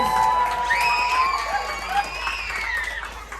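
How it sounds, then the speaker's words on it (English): Group of cheering, whooping guests, including children, clap together after a Build-A-Bear heart ceremony aboard the Carnival Freedom, with high shouts rising over steady crowd noise. "Give yourselves a round of applause"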